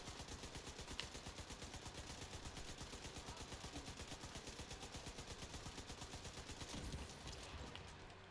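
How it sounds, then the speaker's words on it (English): Missiles and rapid weapons fire in The Division 2 video game, a dense continuous barrage of fast repeating bursts with a low rumbling bed, loud and unbroken for several seconds, with no talking. "He's firing the missiles"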